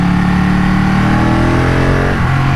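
A Ducati 1199 Panigale S sport motorcycle engine revs loud and close, holding a steady high drone before dipping briefly and climbing again, alone with no voices.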